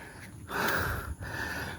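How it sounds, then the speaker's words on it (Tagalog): Heavy panting after a climb to a hilltop camping site in Altavas, Aklan: close, breathy exhales and gasps, one long heavy breath in the middle between quieter ones, with no speech. "Grabing hingal."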